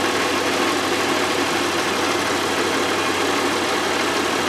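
A car engine idles while warming up toward operating temperature, a dense steady hum with even vibration, close and constant throughout without any talk.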